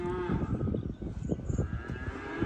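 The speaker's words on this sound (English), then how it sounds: "that's outdoor cattle going next doors" Outdoor cattle moo nearby, a low, loud, drawn-out lowing that runs for a couple of seconds over a steady background.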